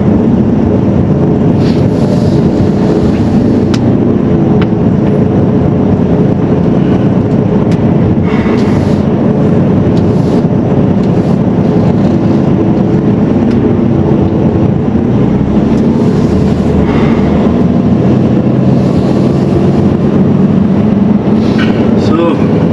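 A heavy truck in its heavy drive program pulls away in sixth gear with a loud continuous low engine roar and rumble, buffeted by wind noise, while someone talks over it.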